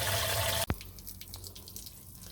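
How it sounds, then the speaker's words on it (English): Water runs steadily from a small tap on a van's wastewater tank, then abruptly stops with a single splash, leaving a few faint drips in the quiet afterward. "Focus on draining the rest out of the tank from the drain pipe, which is this little tap here"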